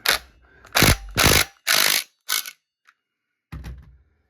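A clutch with a left-hand thread is loosened on a Stihl MS201T chainsaw, a series of close, loud ratcheting bursts in uneven rhythm, with a pause and one final burst near the end.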